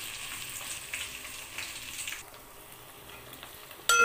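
Curry frying in a pan with coriander powder being mixed in, a soft hissing sizzle with faint stirring scrapes that quiets partway, ending in a sudden louder clatter.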